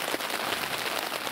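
Steady rain falls outside a garage, a constant dense hiss of drops hitting surfaces with no pauses, fairly close and loud, with no talking.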